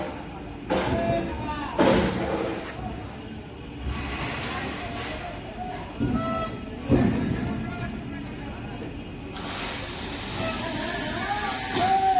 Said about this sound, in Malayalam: ട്രെയിൻ നീങ്ങി നീങ്ങി അങ്ങ് എത്തിയിട്ടാണ്